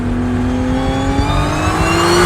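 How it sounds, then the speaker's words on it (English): Supercharged Audi V6 revving up, a loud, steady engine tone climbing smoothly in pitch with a supercharger whine over it, close and alone for a couple of seconds. "This supercharger is absolutely incredible."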